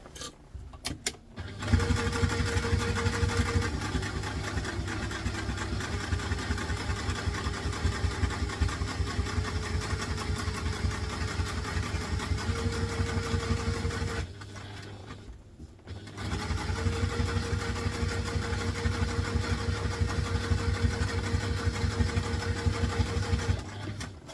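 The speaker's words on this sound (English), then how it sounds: "So we want to make sure we go to our top stitch length. Stitch along here." A sewing machine top stitches a vintage-style doctor's bag handbag, running in a long, steady, fast mechanical whir, briefly stopping near the middle, then resuming at the same even pace.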